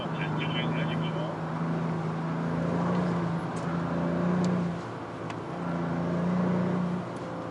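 A Hyundai Sonata N Line on a race circuit gives a steady engine drone heard from inside the car. The tone swells and eases slightly as the car accelerates through the laps.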